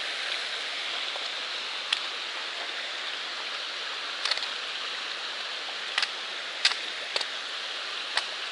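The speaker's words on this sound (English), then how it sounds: "This is Glen Cliff Brook." Glen Cliff Brook, a clear mountain stream along a hiking trail, rushes in a steady hiss with occasional sharp splashes and droplet ticks standing out, close and continuous.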